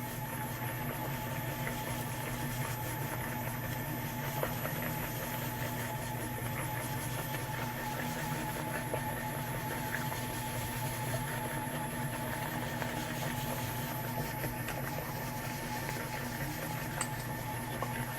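KYS Pro Baker 7+ spiral mixer churning a full dough batch at 300 RPM, a steady droning motor hum with constant mechanical whir, continuous and even throughout with no talk.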